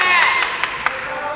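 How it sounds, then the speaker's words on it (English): A big group of Japanese team supporters at a World Boxing Cup bout in Sheffield shout and cheer for their boxer in a brief burst of crowd noise with sharp whoops, close and loud. "Big group of Japanese team behind us cheering him on"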